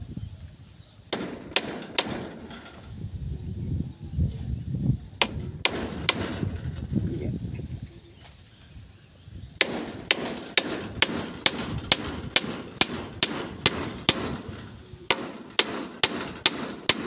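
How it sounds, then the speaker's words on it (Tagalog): Sharp hammer blows strike repeatedly, first in a few scattered knocks, then in a steady fast run of evenly spaced hits, close and loud over a low rumbling background. "Ayan, martilyo."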